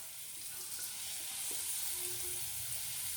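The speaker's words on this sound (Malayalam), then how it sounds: "ഈ ടൈമിൽ നമുക്ക് ഇതിലോട്ട് അരിഞ്ഞു വെച്ചിരിക്കുന്ന സവോള ചേർക്കാം." Chopped onions sizzle quietly in oil with ginger and garlic in a clay pot for Kerala chicken curry, making a faint, continuous hiss with no distinct strokes.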